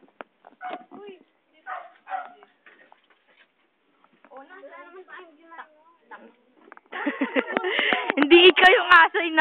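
Several stray dogs, mongrels, bark and yip in a loud, dense burst near the end, after stretches of people talking in Filipino; the voices continue over the barking.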